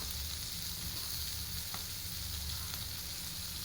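Tomatoes fry in hot oil with turmeric, coriander powder, cumin powder and salt for kadai paneer, giving a steady, even sizzle throughout with no talking.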